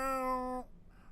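A person's voice imitating a deep-voiced cat meow, one drawn-out harmonic meow lasting about half a second, close and fairly loud, then quiet.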